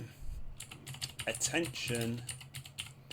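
Fingers tap rapidly on a computer keyboard in a quick, uneven patter of close clicks, with a voice speaking over the typing.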